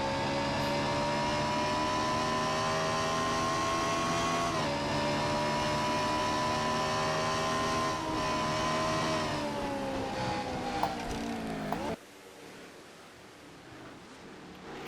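Race cars in the NNSCRA Castrol GTX Cup Series video game at the Traxxas 400 sweep through the S-curves near 154 mph, a steady high engine drone with shifting pitch that cuts off abruptly near the end.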